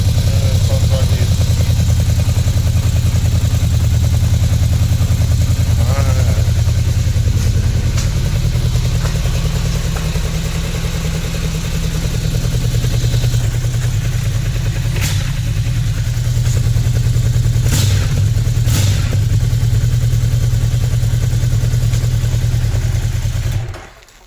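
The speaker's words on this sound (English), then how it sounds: "Before changing into a new exhaust system, let's check the sounds." A Yamaha VMAX 1700 motorcycle on its stock exhaust idles with a deep, steady, close rumble that swells slightly with light revs, holding for over twenty seconds before cutting off abruptly.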